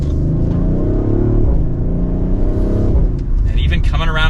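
A 2023 Audi RS5 Coupe drives through a turn, its engine a loud, sustained drone with a steady hum and a slight shift in pitch partway through, heard up close from inside the car.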